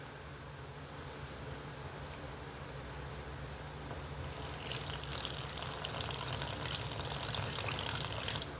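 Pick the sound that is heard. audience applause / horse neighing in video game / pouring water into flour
pouring water into flour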